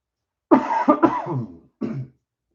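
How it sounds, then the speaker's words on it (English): A person gives a few harsh coughs in a quick burst, then one more cough after a short pause, loud and close in an otherwise quiet room. "now I'm coughing."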